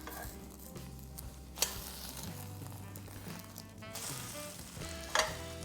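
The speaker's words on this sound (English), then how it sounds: "I'm going to go ahead and flip this." A crunchy ramen noodle omelette sizzles steadily in a hot pan, with two sharp spatula clatters as it is flipped and the frying hiss continuing close and alone throughout.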